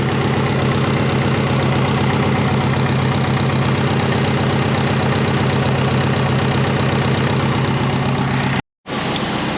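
A twin-turbo Subaru engine runs at a steady, loud idle close by, its dense rumble continuing unbroken for several seconds before cutting off briefly and then resuming.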